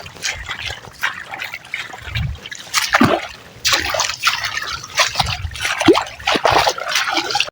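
Irrigation water runs out into a farm field, trickling and splashing unevenly with a few louder gushes and surges, close by and continuous.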